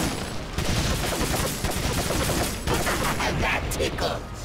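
Rapid gunfire in the video game Resident Evil 4: loud, dense bursts of shots follow one another almost without pause, with no talking over them.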